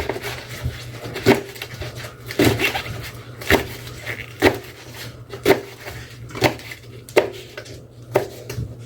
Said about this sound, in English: And then I sort of go in a little, and chop them up some more.